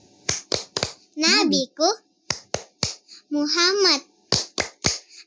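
Children's hands clap in a rhythmic Tepuk Nabi chant, sharp close claps in short bursts alternating with a child's sung chanting.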